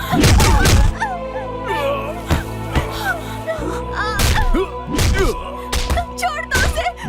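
Heavy thuds and thwacks from a beating in a dubbed South Indian action film fight, several loud impacts in irregular bursts mixed with shouting men and sliding whoosh effects over a constant score.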